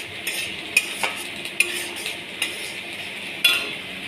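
Spices fry in hot oil in a home kitchen, with a constant soft sizzle hiss broken by several distinct clinks and scrapes of a spoon stirring against the pan.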